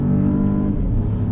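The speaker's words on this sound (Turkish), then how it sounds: "Şimdi şu motor sesi." A Citroën DS3 Crossback petrol engine revs hard in sport mode, a loud, close, sustained drone with a slight pitch dip midway and no talk over it.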